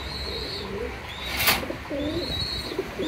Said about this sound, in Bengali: ব্ল্যাক লাহোরি সিল্কি মার্কিং, একদম মিসমার্ক ছাড়া একজোড়া কবুতর